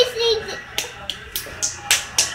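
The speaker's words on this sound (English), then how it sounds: "Clap your hands!" A child claps hands several times in an uneven rhythm, sharp close slaps at a home while cheering for the Cleveland Cavaliers, with a short voice at the start.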